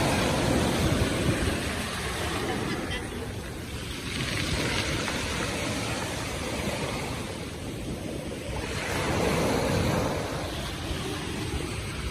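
Sea waves washing onto a shore with clear water, loud rolling surges that swell and fall back in slow cycles about every four to five seconds, with a constant windy hiss and no talk.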